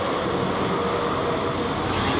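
Airbus A321neo jet at London Heathrow Airport roaring steadily and loudly at close range during takeoff, a continuous broadband engine rush with no pauses.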